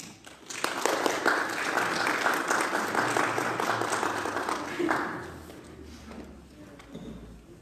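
Audience applause welcoming a speaker at a church gathering: steady, dense clapping from a crowd lasts several seconds, then thins out and fades.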